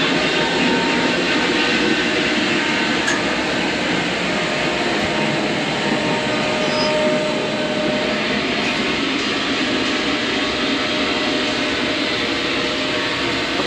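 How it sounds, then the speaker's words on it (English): An industrial air compressor feeding a plasma cutter runs as a loud, steady, unbroken roar and hum throughout, with no talking. "This is the air compressor."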